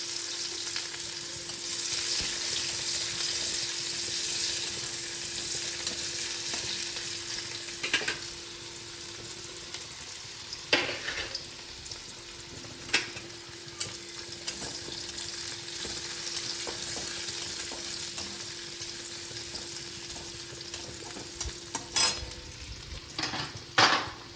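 Chopped onion frying with garam masala in a pan gives a steady, close hissing sizzle throughout. Occasional sharp clinks of a utensil against the pan punctuate it, and no voices are heard.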